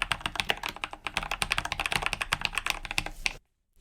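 Rapid, steady typing on a mechanical computer keyboard, with dense, crisp key clacks close to the mic that stop abruptly near the end.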